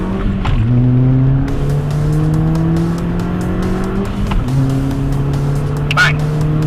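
An Audi TT accelerates hard on a timed road test run, its engine note climbing steadily through the gears with a brief dip at each shift, loud and close from inside the car, with a faint voice near the end.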